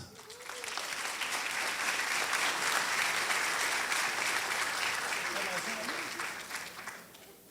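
An audience at an institutional presentation claps steadily for several seconds, a dense, even wash of applause that swells in, holds, and fades out at the end, with a voice speaking faintly underneath.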